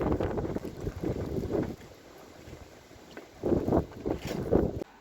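Strong winter wind in a village in the Carpathian foothills buffets the microphone in heavy rushing gusts, easing briefly in the middle before roaring back loud and close.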